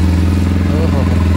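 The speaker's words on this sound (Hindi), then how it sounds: "चलो भाई आज देखते हैं बाइक किस तरह स्टार्ट होगा।" A Zongshen RX3 motorcycle engine runs on a cold winter morning with a loud, close, steady throbbing rumble that holds evenly for the short moment.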